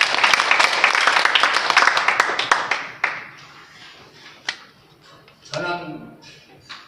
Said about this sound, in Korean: 성도님께도 박수